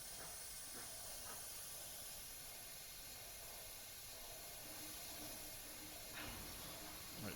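Steam locomotive air brakes on the Rio Grande Southern at Lizard Head Pass in a train simulator game give a continuous faint hiss, with a couple of brief louder puffs of released air.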